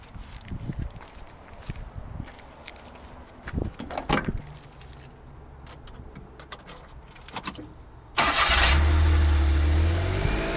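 Daihatsu Hijet kei truck: keys jangle and rattle near the ignition for several seconds, then the engine cranks and catches abruptly, settling into a loud, steady close idle that runs to the end.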